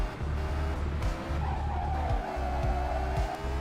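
A hard-to-handle car in a racing video game skids, its tires squealing in a drawn-out wavering screech over a loud, pulsing engine.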